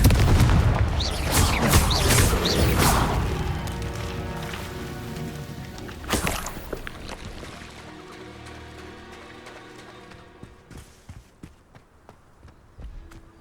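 Confringo blasting-curse explosions go off in the game Hogwarts Legacy, with loud booming bursts and crackling debris in the first seconds, one more sharp blast around the middle, then fading rumble and scattered footsteps.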